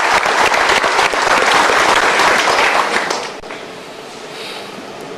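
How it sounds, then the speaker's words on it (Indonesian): Studio audience applause at a live motivational talk show, a loud dense burst of clapping that thins and fades toward the end, with no talk over it. "Kita berikan tepuk tangan."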